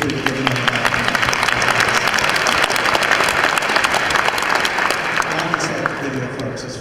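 An audience at a utility cooperative's annual members' meeting claps steadily for the sound crew, a dense, loud wash of applause that holds for the whole stretch and thins slightly at the end.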